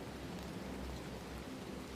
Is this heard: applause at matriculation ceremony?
no